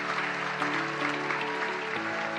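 An audience applauding at an evening event honoring journalists, a dense, even wash of clapping that holds steady for a couple of seconds beneath a faint sustained tone.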